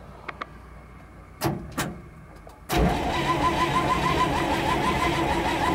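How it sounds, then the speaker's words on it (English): An old Dodge truck's engine is cranked: a few faint clicks and two sharp knocks lead into a loud, steady, churning crank that runs on without catching, close up and with no talk. "She's not acting like she wants to start,"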